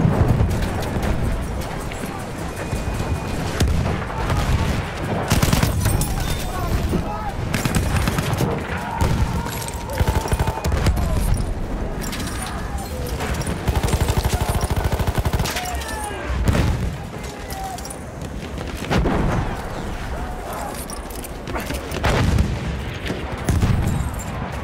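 Explosions boom amid dense, continuous gunfire and rapid machine-gun bursts on a chaotic Battlefield 1 battlefield, loud and sustained throughout with heavy low rumbles.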